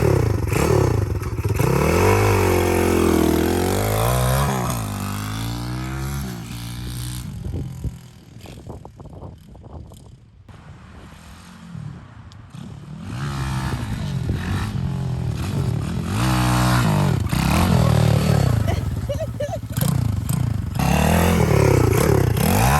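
A 2021 dirt bike revs while being ridden, its engine rising and falling in pitch through repeated throttle blips, dipping quieter mid-ride as it moves off before returning loud and near.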